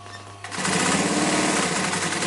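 A sewing machine lock stitching a half-inch seam on a double-piped chair cushion starts up after a quiet moment, then runs steadily and loudly with a fast, even mechanical chatter.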